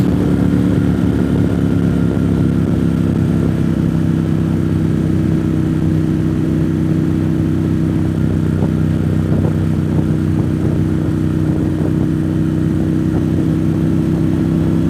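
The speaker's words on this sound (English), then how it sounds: "Motorcycles." Motorcycles on the Foothills Parkway mountain road, a steady mid-pitched engine drone that holds loud and close throughout, without any talk.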